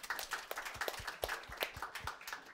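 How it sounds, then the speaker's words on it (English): A small group claps at a Java gaming user group meetup, a faint, sparse and uneven patter of hands in a quiet room. "Give him a round of applause."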